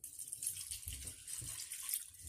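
Bottled water being poured into a cooking pot, a soft continuous splashing and trickle with a few low gurgles, quiet and steady with no talking.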